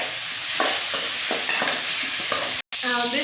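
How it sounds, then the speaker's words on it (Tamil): Vegetables for sambar sauté in a hot pan, with a loud sizzle and repeated scraping stir strokes up close, briefly cut by a moment of silence near the end. "இது சீக்கிரம் வதங்கணும் அப்படின்னா கல் உப்பு போட்டுக்கோங்க."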